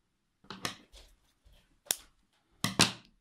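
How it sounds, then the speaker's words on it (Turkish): Several crisp scissor snips cutting yarn, close and fairly quiet, spaced irregularly with short pauses between cuts. "Makasımla kesiyorum."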